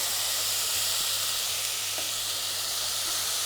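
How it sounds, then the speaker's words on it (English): Chana dal frying in hot ghee for a tempering, with a steady, dense sizzle that stays unbroken throughout, close and fairly loud, with a faint clink or two from the pan. "Fry it in that ghee."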